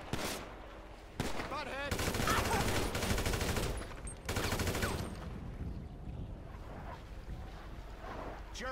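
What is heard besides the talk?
gunfire in GTA V video game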